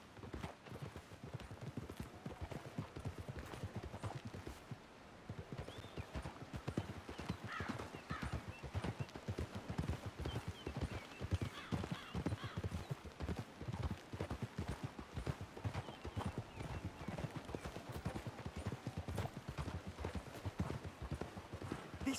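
Horses' hooves clip-clop steadily in Red Dead Redemption 2, several animals moving at a walk or trot in a continuous, fairly quiet rhythm, with an occasional neigh and snort.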